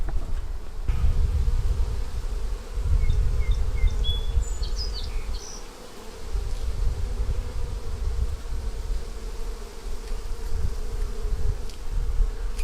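Honeybees swarming around an open beehive, a steady dense buzzing hum that fills the air throughout, close by and loud, with faint bird chirps in the background.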